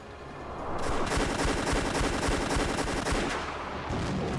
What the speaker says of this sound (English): A thunderstorm of rapid-fire ballista rounds leapt from the battle tower gun ports.